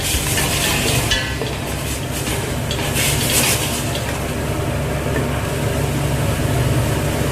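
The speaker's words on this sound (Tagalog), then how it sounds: "igigisa na natin siya kasabay ng sibuyas" Cardamom seeds sautéing with onion in a pan while cooking chicken, a steady sizzle under repeated scraping and stirring of a utensil against the pan, with metallic clinks clustered early on, close and continuous.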